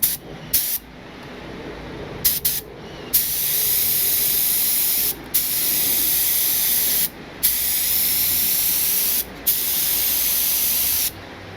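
Rust-Oleum spray paint hisses from an aerosol can in a garage with the doors open, laying a light first coat in several long steady bursts separated by brief pauses.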